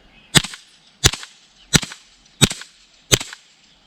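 Five suppressed .22 gunshots from a YHM Phantom 22 suppressor firing CCI standard ammunition, sharp evenly spaced cracks about 0.7 seconds apart, close and fairly loud with no talking.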